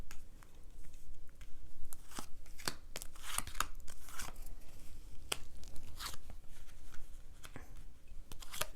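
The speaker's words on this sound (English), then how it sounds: "So let me do a cut." A deck of tarot cards being cut and handled at a table, with a series of crisp papery slaps, riffles and scuffs spread across the stretch, fairly close and moderately loud, with no talking.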